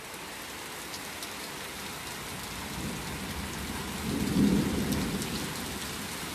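Hard, steady rain pours down in a dense, continuous hiss, and a deeper rumble swells briefly toward the end before easing back under the downpour.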